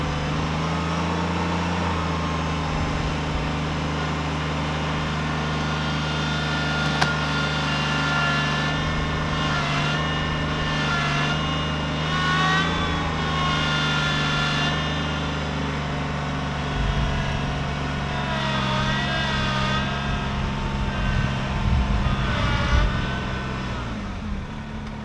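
A Kubota BX2380 compact tractor, working in four-wheel-drive low range, drones with a steady engine hum through a tractor pull, the load building with rising, straining surges in the middle and again toward the end, with no talk.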